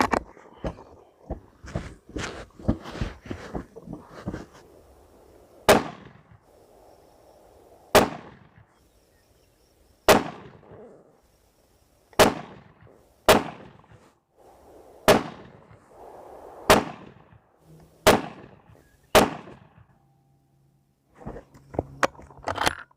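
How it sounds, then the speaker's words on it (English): A .300 Win Mag rifle firing 190 Accubond LR loads outdoors: after a quick cluster of sharp cracks, nine loud separate shots follow at steady intervals of a few seconds, each with a decaying echo. "We're going to start with these Accubond long ranges. We're going to shoot at the left target."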